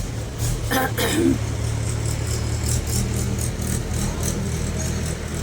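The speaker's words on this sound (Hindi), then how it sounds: "गाड़ी आ रही है।" A car engine hums steadily close by with a faint rattle, a continuous low rumble that neither fades nor swells much across the few seconds.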